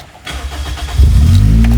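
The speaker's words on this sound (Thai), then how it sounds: "ก็ต้องสตาร์ทเครื่องก่อนนะครับ" A Toyota Corolla AE92 with a swapped 2ZZ-GE engine cranks briefly and then fires into a loud, steady idle that stays close and strong through the end, with no talking.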